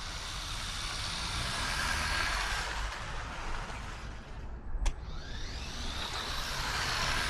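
Small 1/20th-scale HPI Maverick desert truck, 2.4 GHz radio-controlled, running flat out at full throttle, giving a steady buzzing motor whine with a brief sharper spike midway, heard continuously from a moderate distance.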